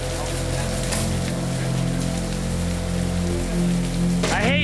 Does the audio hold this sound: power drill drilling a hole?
no